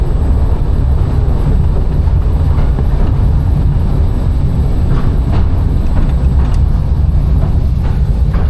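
The Mail Rail underground post-office railway rumbles along its track, a loud, steady low roar and rattle of the small train riding through the tunnel, continuous with faint clicks and no talk.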